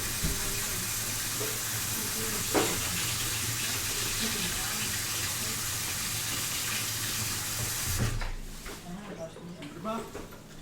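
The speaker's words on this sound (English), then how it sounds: "Actually, scrub this off so I can reuse it" Steady broadband rush of tap water running into a kitchen sink, with a brief scrubbing scrape partway through, before the flow cuts off and quieter handling noises remain; speech occurs nearby.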